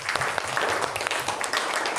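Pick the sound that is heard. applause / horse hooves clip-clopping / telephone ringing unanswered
applause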